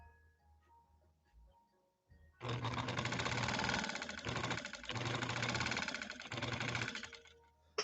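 An antique 1800s Willcox & Gibbs "Cora" sewing machine starts up after a short pause and runs steadily with a fast, even mechanical whir and clatter, loud and close, with slight dips in speed.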